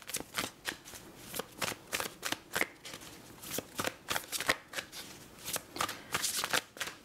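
A tarot deck being shuffled by hand, with quick rhythmic riffling and tapping of cards repeating steadily up close, nearly alone.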